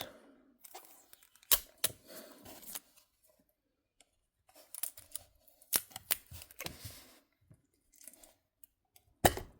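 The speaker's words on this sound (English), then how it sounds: "And let's also remove the tape on the other side." Tape peeled and torn off a diecast Pizza Planet truck model box in a few short ripping bursts, with crinkling and handling noises between quiet pauses, close up.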